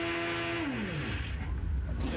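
Penske Porsche race car at the 2006 American Le Mans Series round at Miller, its engine revving hard and unsteadily in the pit lane with a suspected throttle problem, loud and close with a falling pitch sweep.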